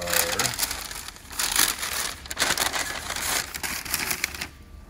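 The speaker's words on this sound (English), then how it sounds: "I haven't opened this fine Ziploc bag" A plastic Ziploc bag of aircraft parts for a Cessna 180 being opened, heard as loud, close, continuous crinkling and rustling of plastic that stops near the end.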